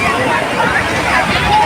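Big ocean waves roar continuously on a crowded Goa beach, blending with the hubbub of many voices in a brief, dense wash of sound.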